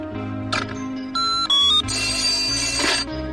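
A telephone ringtone in a Tamil romantic movie scene chimes in short tonal bursts over background music, with no talking.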